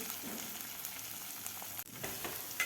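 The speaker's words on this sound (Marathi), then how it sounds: "डाग पडेपर्यंत आपल्याला हे मिरची व्यवस्थित भाजून घ्यायची आहे" Green chillies roasting in oil in a pan give a steady, close sizzle and crackle throughout, with a brief dip in the noise near the end.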